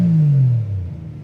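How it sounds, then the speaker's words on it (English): A Rolls Royce V12 with a Mansory exhaust gives a short, loud rev whose pitch drops smoothly as it winds down over about a second. "we have the Mansory exhaust on this one and a V12, so the sound is amazing."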